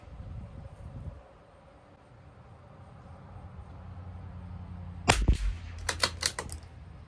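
A CZ 457 LRP rifle with an IBI barrel fires RWS Special Match rimfire ammunition at a 50-yard range, a sharp close report followed by several bolt clicks and rattles.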